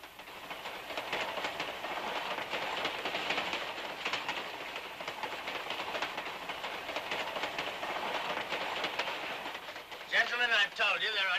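A train from a 1952 film rolls on its rails with a continuous rumbling clatter, fairly loud, and a voice breaks in near the end.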